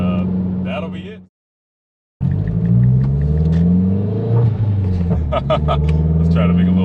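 A turbocharged Mazda Mazdaspeed3 rumbles while driving, a steady low engine drone with rising and falling pitch beneath someone talking, broken by a second of silence before the engine sound resumes.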